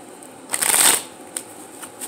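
A deck of character cards being shuffled, one quick riffling burst followed by a few faint light taps, close and clear with no talking.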